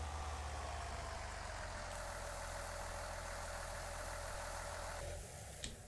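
A tractor engine idles in Farming Simulator 19, a steady low drone that carries on unchanged before dropping off abruptly near the end.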